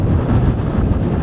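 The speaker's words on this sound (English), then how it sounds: "sorry about the wind, I'm trying to cut it down as much as I can." Strong gusts buffet the microphone on an open moor in January, a loud, rumbling, continuous roar of wind noise with no other sounds.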